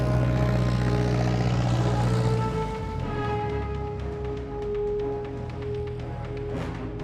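A small Cessna propeller plane with its engine running gives a steady, loud droning hum that shifts pitch as it continues, with no talking.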